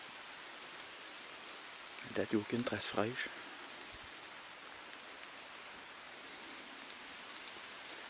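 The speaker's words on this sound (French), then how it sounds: "La pluie s'est calmée un peu." Steady light rain falling outdoors during a hunting trip, a soft even hiss throughout, with someone speaking briefly and quietly over it.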